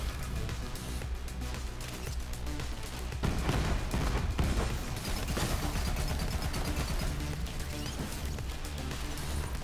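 Gunfire in the video game Borderlands 3, a dense, loud barrage of shots and impacts layered over a busy game mix, continuous throughout with a heavier burst near the middle.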